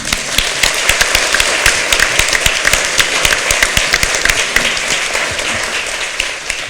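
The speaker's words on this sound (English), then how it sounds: "Let's give them all a round of applause." A crowd at a school board candidate forum applauds loudly, with close, sharp individual claps standing out over a steady bed of clapping throughout.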